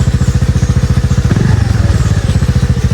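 Motorcycle engine running while crossing floodwater, a loud, close, rhythmic chugging exhaust pulse that swells briefly mid-way and then settles back into its steady beat.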